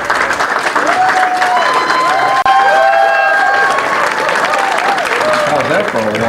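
Texas audience gives a standing ovation with loud, sustained applause and cheering, a dense wall of clapping filling the whole stretch, with overlapping voices and a brief dip midway.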